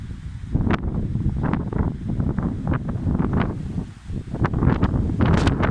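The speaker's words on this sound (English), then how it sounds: "the wind's really going for it now" Strong wind gusting across an open field, rumbling and buffeting the microphone in uneven surges with faint rustling, loud and continuous with no voices.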